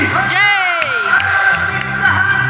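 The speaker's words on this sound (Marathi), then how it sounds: "जोरदार टाळ्या" A loud crowd cheers and whoops with scattered clapping at a stage programme, voices rising over the steady roar.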